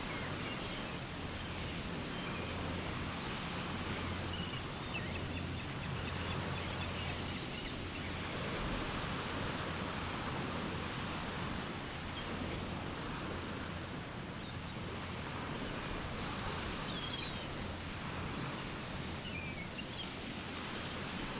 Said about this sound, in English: Listening to the sounds of the ocean.